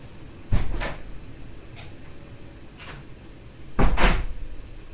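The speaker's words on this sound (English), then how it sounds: "Close my doors." Doors thud shut in a lecture setting, two louder closes about three seconds apart with a couple of softer knocks between, over a steady room hum.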